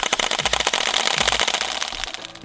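Rapid gunfire in a movie scene, a fast string of sharp cracking shots over a dense, noisy soundtrack, loud and continuous for the whole stretch.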